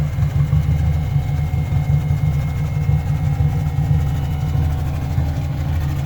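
A Toyota AE86 fitted with a KA24 engine idles just after starting, a steady low rumbling drone with an even pulsing throb, close and continuous with no talk.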